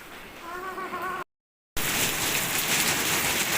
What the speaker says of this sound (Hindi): किस तरह से बर्फ़बारी हो रही है।